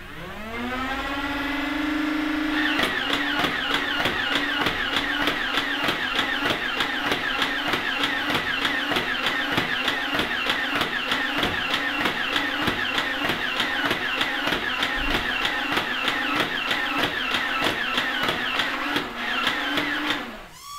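A Nerf Rhino-Fire blaster fires Elite darts, a motor spinning up with a rising whine, then a long rapid stream of evenly spaced mechanical clacks over the loud, steady motor drone before winding down.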